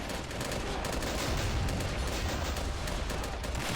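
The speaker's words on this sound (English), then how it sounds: "Some covering fire from this machine gun here." Machine gun laying down covering fire in the Army Men battle game, a dense continuous rattle of rapid shots mixed with distant gunfire and explosions, steady and loud throughout.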